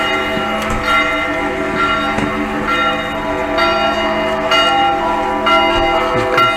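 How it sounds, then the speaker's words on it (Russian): Church bells ring out an alarm peal during winter holidays, loud, ringing strikes repeating at a steady pace with long, overlapping metallic tones. "И колокольный набат."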